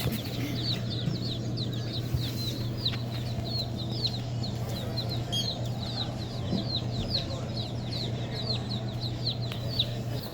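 Chickens clucking repeatedly in a busy chorus over a low steady hum, with scattered background noise.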